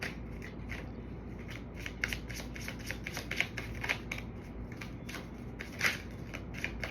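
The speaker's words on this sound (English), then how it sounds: "You see me shuffling." A deck of cards is shuffled by hand, quick crisp riffling flutters and snaps repeating close up against a quiet room.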